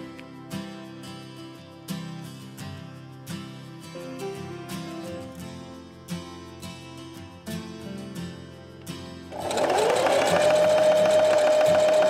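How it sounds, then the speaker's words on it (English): A sewing machine zigzag-stitching bag straps for a grocery shopping bag runs in short repeated bursts, then switches to one long continuous whirring run, close and clear. "then I will also stitch down with zigzag to reinforce it"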